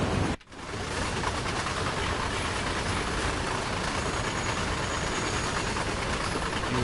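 Train Sim World train rolling steadily under the M25 in stormy conditions, a loud continuous rumble of wheels and running gear with no distinct rail-joint beats standing out, after a brief dip near the start.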